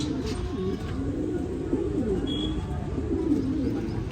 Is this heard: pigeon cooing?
yes